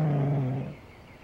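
A dog growls in the game Shadow of Destiny, a single deep, rumbling growl lasting about half a second before fading into quiet.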